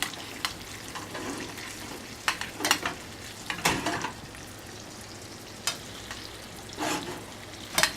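Salmon cooks in a pan of hot butter, a soft steady sizzle running throughout while a spoon bastes it, with several brief scraping and clinking strokes at irregular moments; quiet and close, with no talking.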